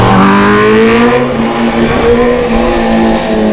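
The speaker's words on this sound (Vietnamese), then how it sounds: "Nghe tiếng bô khoáng khích không các bạn ơi?" Honda CBR1000RR-R 2020 superbike on the Dai Nam race track, its exhaust revving loud and close in one continuous, rising roar.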